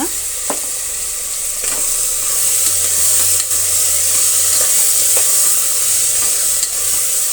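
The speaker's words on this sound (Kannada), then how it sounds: "ಈ ಸೊಪ್ಪಿನ ಪೇಸ್ಟ್ಗಳು ಕೂಡ ಸ್ವಲ್ಪ ಫ್ರೈ ಆಗಬೇಕಾಗತ್ತೆ." Spinach greens paste frying in a pan with tomato, a steady close sizzle with occasional stirring scrapes and clicks throughout, no voices.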